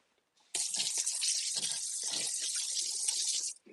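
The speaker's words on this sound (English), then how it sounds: "rinse my sink out here" Water from a tap gushes steadily into a kitchen sink, a loud close hiss that starts abruptly and stops after about three seconds.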